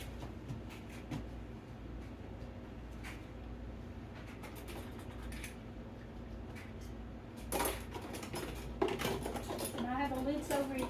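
Metal canning lids clink and clatter against glass jars in a kitchen while ham and navy bean soup is being canned, faint at first and then louder with sharp metallic taps near the end.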